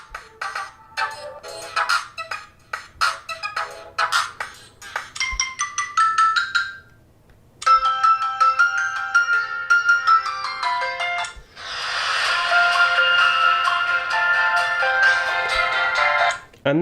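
Ringtone melody played loudly through the bottom loudspeaker of a Samsung Galaxy Note 5 clone phone: a series of bright electronic tone phrases with short pauses, ending in a dense, sustained chiming passage.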